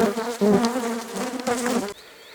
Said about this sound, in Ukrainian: Тут бджола нервує